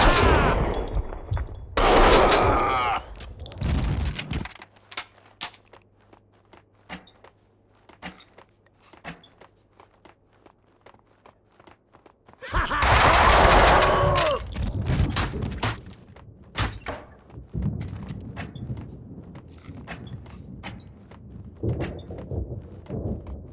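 Gunfire in Max Payne 2 on PC: rapid bursts of shots crack out in dense clusters at the start and again in the middle, with scattered single shots and sharp impacts between, close and loud.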